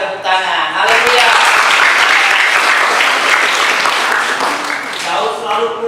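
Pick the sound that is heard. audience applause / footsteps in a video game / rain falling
audience applause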